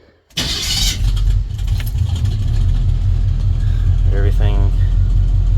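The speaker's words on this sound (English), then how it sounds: "Didn't even have to pat the gas. I left my foot right there during the startup." A 1981 Chevrolet C10 with 76,000 actual miles cranks and fires up with no throttle, then settles into a steady, loud, close idle while someone talks over it.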